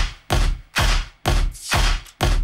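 Simple house beat with a heavy kick and a clap layered on it, five loud, punchy, evenly spaced hits with a bright noisy tail, close and alone.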